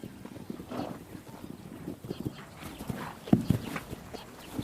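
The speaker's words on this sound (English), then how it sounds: "Small but hardy, Mongolian horses endure a harsh climate and grow a thick winter coat." Hooves of small, hardy Mongolian horses clip-clop in an irregular pattern, fairly faint and distant, against a low rumbling background with no speech.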